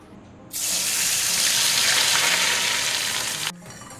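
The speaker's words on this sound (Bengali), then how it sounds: "এবারে আমরা এই দুধ আর সুজির মিক্সচারটা দিয়ে দেবো ভালো করে নেড়ে নিয়ে" Milk and semolina mixture poured into melted sugar in a pan over low heat for semolina halwa, a loud steady rushing sizzle that bursts in suddenly, holds for about three seconds, then cuts off.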